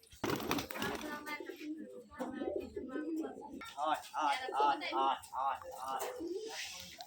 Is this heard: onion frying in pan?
no